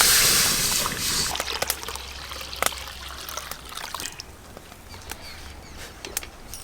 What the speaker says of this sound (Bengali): আর দিদি এখনো ভালো করে ঘষে ঘষে মাছ ধুচ্ছে